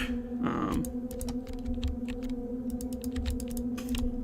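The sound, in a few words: clicking of a computer keyboard or mouse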